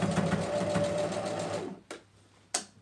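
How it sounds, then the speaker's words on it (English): A sewing machine stitching a crotch seam through several fabric layers, a steady fast whirring run that stops and is followed by two short separate bursts of stitching. "I'm going to continue sewing as usual."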